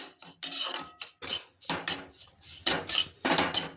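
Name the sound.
stirring roasted semolina in a pan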